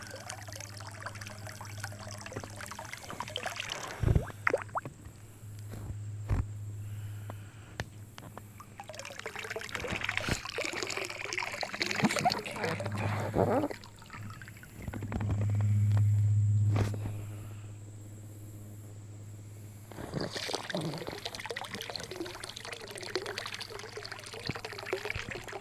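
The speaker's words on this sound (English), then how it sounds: "Once it gets the air from out around the bottom of the sump pump there, we start chooching really good." A sump pump sits in a pool pushing out rust-stained water in a steady, close-up gush with trickling and splashing, surging louder around the middle as it draws out trapped air and flow strengthens.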